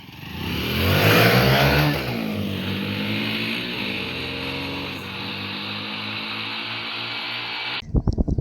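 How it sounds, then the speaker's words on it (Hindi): An HF Deluxe and a TVS Sports motorcycle race side by side, engines revving hard in a loud rising whine that peaks and then settles into a sustained drone, cut off abruptly by a few sharp knocks. "दोनों बाइक आ रही है"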